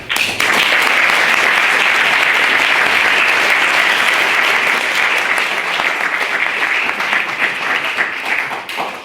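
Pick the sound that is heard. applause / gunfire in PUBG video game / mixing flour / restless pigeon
applause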